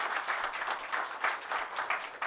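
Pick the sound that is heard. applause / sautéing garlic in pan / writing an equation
applause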